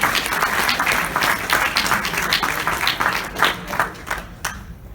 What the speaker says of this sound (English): Big round of applause for them as they go down.